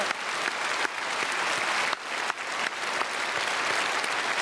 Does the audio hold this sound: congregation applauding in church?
yes